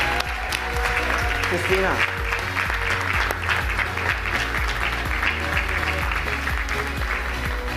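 A live-stream event audience applauds volunteers called onto the stage, a steady mass of clapping under a low, droning hum, with a voice speaking briefly over it.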